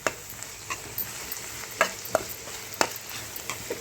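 A spoon stirs curry in a pan with sugar and a dry-roasted mustard-fenugreek and red-chili powder, giving a soft steady sizzle broken by a few sharp scraping knocks, close up and without talk.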